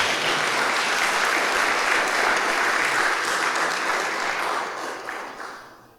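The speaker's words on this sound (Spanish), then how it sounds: "Sí, merece un aplauso." Dense, steady applause from an audience fills a colonial chapel during a celebration of the Augustinians' 450th anniversary in Colombia. The clapping stays loud and even, then gradually thins and fades in the final second.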